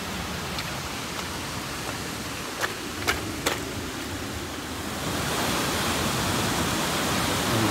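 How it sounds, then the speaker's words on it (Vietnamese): A waterfall's steady roar of rushing water fills the clip, growing louder partway through, with a few faint clicks and no voices. "Thác luôn ấy. Chảy ầm ầm luôn."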